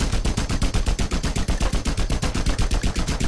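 Rapid automatic gunfire in a video game: a loud, steady stream of shots at about ten per second, close and unbroken for several seconds.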